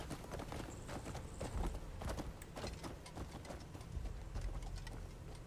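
Horse hooves clip-clop steadily on the ground in the video game Crimson Desert, a close rhythmic trot continuing throughout with faint ambient game sounds and no speech.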